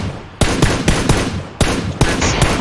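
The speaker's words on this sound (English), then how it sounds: "I'm taking shots." Gunfire in the video game PUBG, with several loud, sharp shots in quick irregular bursts, close and echoing over a steady background rumble.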